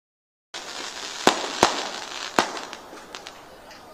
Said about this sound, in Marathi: फटाके बंद करा, फटाके